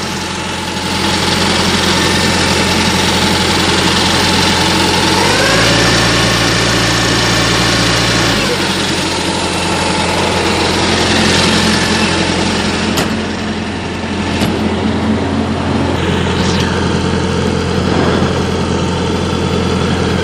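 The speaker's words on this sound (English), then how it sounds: "As you can see, my reefer is running" A truck reefer refrigeration unit's diesel engine runs steadily and loud, close by, with a constant idling drone and a brief pitch shift partway through, a few clicks and rattles over it and no talking.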